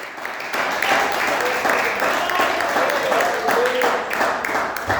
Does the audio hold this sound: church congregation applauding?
yes